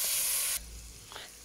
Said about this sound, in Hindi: मैंने 2 सबज मिर्चें डाली हैं एंड 2 टमाटर मैंने डाले अभी। इनको थोड़ा फ्राई करके